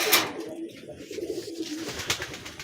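A male Giribaz pigeon coos in a soft, low, rolling burst lasting a couple of seconds, fairly close and quiet.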